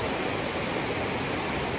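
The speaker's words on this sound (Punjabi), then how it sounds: "ਬਹੁਤ ਹੀ ਤੇਜ਼ ਬਰਸਾਤ" Dense, roaring wash of very heavy rain, a constant broadband downpour with no breaks or voices over its short span.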